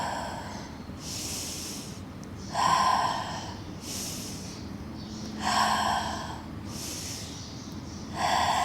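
A person in a mat Pilates side-lying leg lift exhales in three sharp, breathy bursts, each followed by a quieter inhale, spaced evenly and close.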